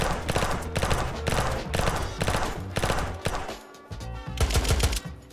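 Rapid automatic gunfire shatters a bed in the video game Unturned, coming in loud repeated bursts separated by brief pauses.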